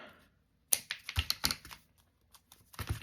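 Scissors snip a small piece off a thrifted fabric scrap, several crisp, close cuts in quick succession after a brief silence, with a couple of softer snips trailing at the end.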